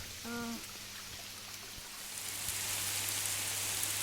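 Heavy rain falling outdoors during a fishing outing by a drained stream, a steady broad hiss of drops on surfaces that grows slightly louder, with a brief tonal call near the start.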